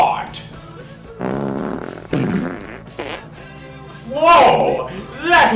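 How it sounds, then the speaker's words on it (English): A comedic fart sound, a couple of drawn-out, rumbling bursts with a crackling raspy texture, loud and close, surrounded by talking voices. "I have to fart."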